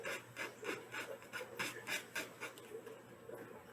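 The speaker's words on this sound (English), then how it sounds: "I'm gonna sand the edges on this corner here too" Sandpaper rubbing the edges of a decoupaged MDF box, a steady run of about ten quick back-and-forth rasping strokes, close and fairly quiet with no talk.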